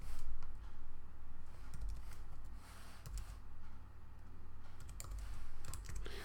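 Computer keyboard typing, a rapid run of soft close key clicks in uneven bursts with short pauses, fairly quiet and without voices.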